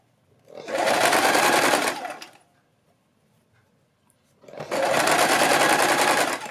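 A sewing machine stitches a gown lining in two steady, fast-running bursts of about one and a half to two seconds each, close and clear, with quiet between them.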